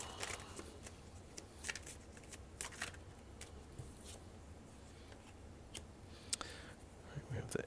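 Tarot cards are shuffled and drawn close up in soft papery riffles and flicks, with scattered crisp clicks over a low background murmur.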